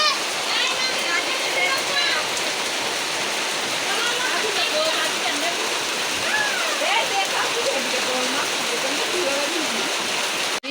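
Heavy rain pours down steadily beside an outdoor cooking spot where khichuri is being made, a dense, loud splashing wash that continues throughout.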